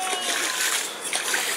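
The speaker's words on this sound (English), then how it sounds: "Good old throwing pan in the puddle treatment." A pan tossed into a rain puddle at a campsite throws up a loud, broken run of splashing and splattering water, rising and falling in bursts, with a voice talking faintly beneath it.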